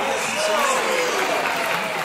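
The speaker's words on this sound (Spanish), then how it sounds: "¿Por qué no le damos un aplauso al Señor?" A church congregation applauds in praise during a Catholic worship service, a steady wash of many hands clapping at even, fairly loud level for a couple of seconds.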